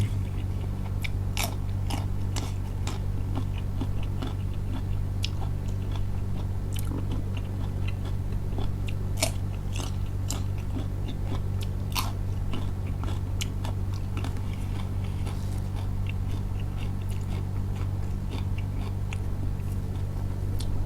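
Crisp crunching and biting on fresh raw vegetables served as a side to shrimp-paste chili dip with fried cha-om omelette and grilled mackerel, heard very close and continuous over a low steady hum.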